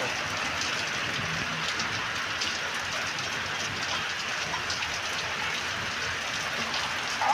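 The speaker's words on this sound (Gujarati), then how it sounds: "બરાબર આજે વરસાદ છે" Steady rain falls without pause as a dense, even patter on surfaces, moderately close and constant throughout, with no voices and only a slight rise at the very end.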